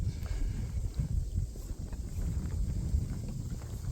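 Wind gusts across a lakeside hiking trail, buffeting the microphone in a low, continuous rumble that rises and falls, with no talk.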